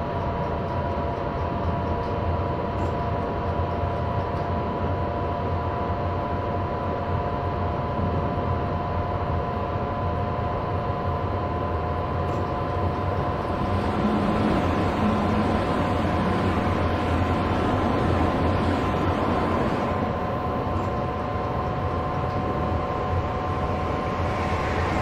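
Train running in a train simulator game with the Tad Rheingold sound mod, a steady rolling rumble and hum with a constant high whine, continuous and even, louder noise swelling midway.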